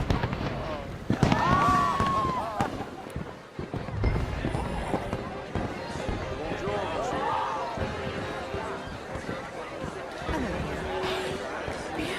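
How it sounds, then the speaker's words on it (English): Fireworks in the video game Red Dead Redemption 2 pop and crackle in scattered bursts, some with whistling trails, under ongoing conversation between characters. "Let me enjoy the fireworks."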